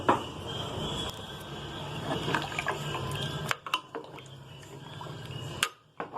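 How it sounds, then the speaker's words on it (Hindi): A jug of water is poured into a pot of nihari with a continuous gurgling splash, which briefly stops and resumes, followed by the clink of metal cookware against the pot. "अब जल्दी से मैं 1 जग पानी डाल रही हूँ ताकि मसाला लगे नहीं नीचे से"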